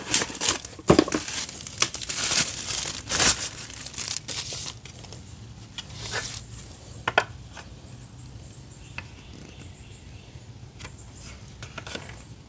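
Double-sided tape peeled off its backing while fitting a mudguard extension to a Scrambler 400X high fender: close crinkling and tearing of film and paper in bursts, loudest at first, then fading to occasional small rustles.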